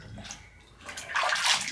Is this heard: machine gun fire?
no